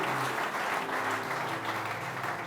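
Sustained applause from a church congregation during a Sunday service fills the whole stretch, a steady dense patter of clapping with no pauses.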